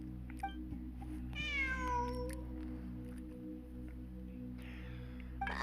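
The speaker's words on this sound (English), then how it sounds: "It really is a cat." A cat meows in Genshin Impact: a series of rising, harmonic meows over a steady low game-music hum, fairly close, with a fainter second call near the end.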